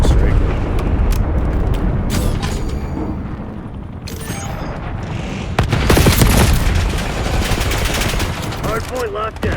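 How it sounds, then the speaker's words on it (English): Napalm strike explosions in the multiplayer video game Black Ops 6, heavy booming blasts mixed with sharp gunfire and machine-gun bursts, loud and chaotic, with a brief voice toward the end. "Enemy napalm strike incoming."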